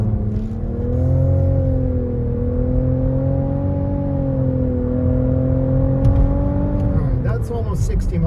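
A 2022 Hyundai Tucson or Nissan Rogue SUV accelerates hard in sport mode, its engine drone climbing steadily in pitch for several seconds from inside the cabin before easing off, with a voice speaking over it.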